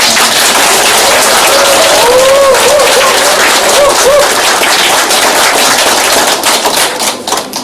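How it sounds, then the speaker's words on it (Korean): Loud, sustained applause from a crowd welcoming a guest at an election campaign office opening, dense close clapping that holds steady before thinning out at the end, with cheering voices briefly rising over it. "박수로 환영해 주시기 바랍니다"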